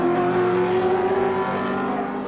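A bunch of Group C touring cars racing at Symmons Plains in 1984, with engines roaring loud and close in a sustained, tonal drone that holds steady and then eases slightly as they pass.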